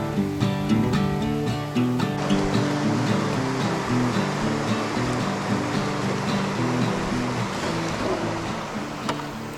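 East branch of the Swift River in New England flowing steadily, a constant broad water rush heard up close under a louder engine-like motor hum that continues throughout.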